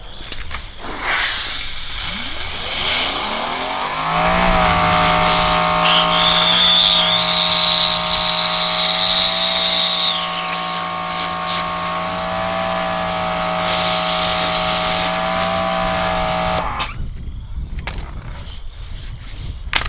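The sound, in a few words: 2300 PSI pressure washer with turbo nozzle spraying Jeep top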